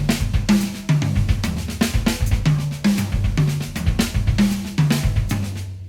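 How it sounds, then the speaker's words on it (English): A live drum kit plays accents spread around the toms with bass drum hits, a steady, punchy rhythmic pattern of descending tom strikes, close and loud with no talking. "a systematic way of putting those accents around the toms"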